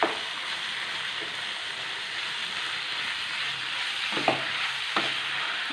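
Chicken stirred and frying with onions in oil over a medium flame makes a steady close sizzle, with occasional scrapes of the spoon against the pan.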